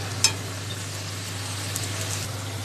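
A soft, even sizzle of vegetables frying in a pan for pav bhaji, steady and close, with a faint clink near the start and a low hum underneath.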